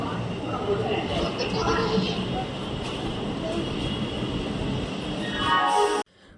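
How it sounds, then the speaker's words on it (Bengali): A train bound for Howrah rumbles past nearby near Sheoraphuli station, a steady roar that swells toward the end before cutting off abruptly. "ট্রেন হাওড়া যাচ্ছে, হাওড়া।"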